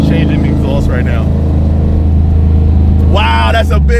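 Deep, loud, continuous rumble of a 50-year-old 780 hp Buick engine running through its rear exhaust, close by, while people talk over it.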